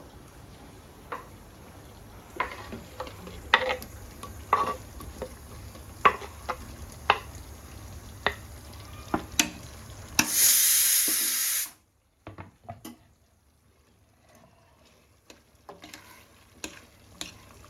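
Tomatoes and green chillies fry in hot oil in a pan for mutton pulao, a steady sizzle broken by close spoon scrapes and clinks, with one loud hissing burst near the end before it quietens to soft crackling.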